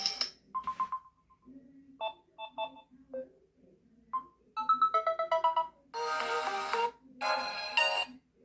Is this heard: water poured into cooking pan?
no